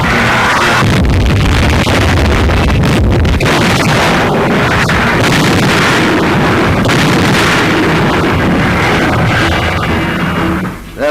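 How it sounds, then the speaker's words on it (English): Field guns fire in a 1943 wartime newsreel from the Allied advance toward Naples, near Monte Corvino airfield: a loud, dense barrage of overlapping booms and blasts that runs almost without break for the whole stretch, with no voices heard. "And now the field guns go into action"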